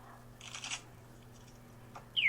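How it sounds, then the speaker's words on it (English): A deck of cards is shuffled with a quick riffling burst, followed by fainter ruffles and a sharp snap at the end, under a steady low hum. "All right, Annette, let me give it a good shuffle here and see what we come up with."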